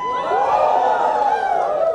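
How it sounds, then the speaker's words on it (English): Wedding guests at a sangeet ceremony yell and cheer loudly together, a sustained crowd roar that stays close and strong throughout. "If you guys are ready, just yell one more time really loudly."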